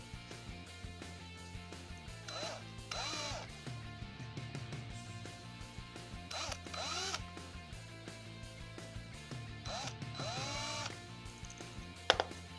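A small drill spins up in short bursts, its whine rising and falling as the bit barely touches blank Tekno RC plastic shock pistons. Several brief quiet runs are separated by pauses, close and fairly soft, with no talking.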